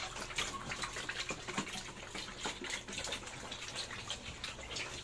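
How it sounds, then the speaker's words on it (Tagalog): Water gushes and splashes steadily into farm pipes used for watering animals, a continuous broadband hiss with irregular surges, fairly close but soft. "Doon galing yung tubig."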